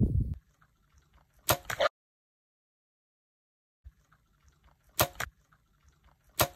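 A 640 grain arrow strikes pig bone in two separate impacts, each a short, sharp, loud crack with a brief noisy rattle, separated by a stretch of near silence and faint background rumble.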